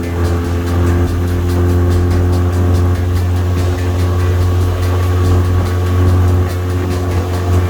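A Mercury 9.9hp outboard motor converted to 15hp runs at full throttle, a loud, steady droning engine roar with a strong low hum that holds constant throughout, no talking.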